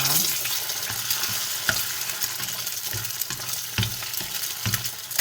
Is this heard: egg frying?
yes